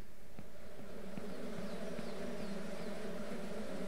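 Bees hum steadily around hives on a ranch in the video game Ranch Simulator, a continuous low insect drone running the whole time with a few faint clicks and chirps over it.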